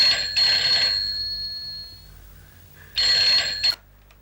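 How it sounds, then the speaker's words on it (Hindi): A telephone bell rings in two bursts, one long ring then a pause and a second shorter ring, loud and close in a quiet room. "घंटी बजी नहीं, फोन उठाओ। 2 सेकंड में बजेगी।"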